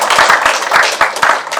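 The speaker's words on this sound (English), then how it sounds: "So I think we should give them a round of applause." Staff at a forum receive applause: a short burst of rhythmic hand claps from a small audience, close and moderately loud, with no talking over it.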